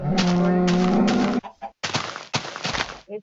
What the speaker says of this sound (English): Strong cow noise